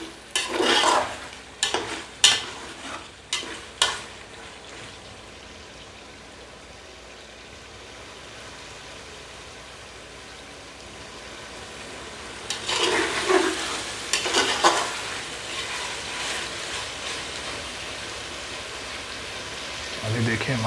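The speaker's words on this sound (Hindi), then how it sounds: "इसकी भुनाई हो जाए आहिस्ता आहिस्ता, ताकि अदरक और लहसुन का पेस्ट जो मैंने डाला है उसकी भुनाई अच्छे तरीके से हो जाए" Ginger-garlic paste masala frying in a pan for a potato and chicken curry, giving a steady sizzle with clattering stirs in bursts at the start and again near the end, quieter frying in between.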